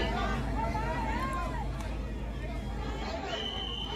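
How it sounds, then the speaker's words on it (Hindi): Crowd of devotees at Kalkaji temple in Delhi during Chaitra Navratri, a steady murmur of many voices and chatter with some shouts rising above it, close and continuous. "दिल्ली के कालका जी मंदिर में सुबह से ही भक्तों की भारी भीड़ है।"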